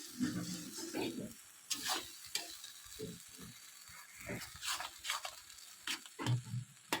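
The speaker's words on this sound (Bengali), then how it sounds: "এবার ভালো করে মাংসের কিমার সাথে পটলের দানাটা নাড়িয়ে নেবে" Minced meat with ground pointed gourd seeds being stirred in a pan, with a faint, low sizzle broken by repeated scraping and clattering strokes of a spatula at an uneven rhythm.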